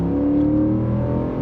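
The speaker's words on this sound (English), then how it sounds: "does have that great V8 sound" A Ford F-150 pickup's V8 engine idles and revs with a steady, deep, throaty rumble that stays close and loud throughout, with no other voices or sounds.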